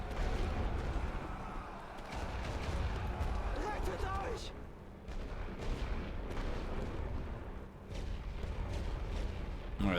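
Artillery in a World War I strategy game shelling an enemy trench on the Western Front, repeated booms and rumbling impacts at a moderate level, with someone talking over the barrage.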